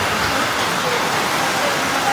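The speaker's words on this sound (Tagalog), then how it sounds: "Lakas ang ulan dito sa Taytay," Heavy rain pours steadily in Taytay, Rizal during a storm with strong wind, a dense, loud, unbroken hiss of falling water throughout with no pauses.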